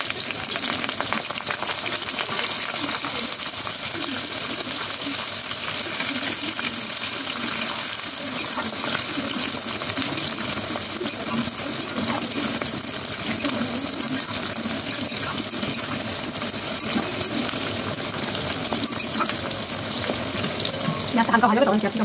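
Onions hit a hot pan with whole cinnamon, cloves and cardamom, giving a steady, close frying sizzle with faint stirring that holds evenly throughout.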